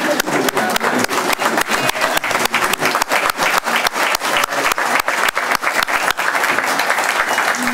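A graduation ceremony audience breaks into loud, sustained applause for the graduates' families, dense rhythmic clapping from a large crowd filling the hall for the whole stretch.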